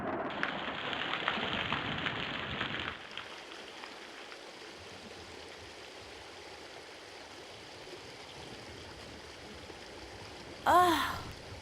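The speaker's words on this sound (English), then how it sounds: "Oh, it's pouring rain." Rain pours steadily, loud and dense at first, then drops to a softer, continuous patter, with a brief sharp noise near the end.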